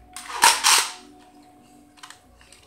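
Two quick gunshot bursts in Minecraft gameplay, sharp and close, sounding one right after the other near the start, followed by fainter scattered clicks.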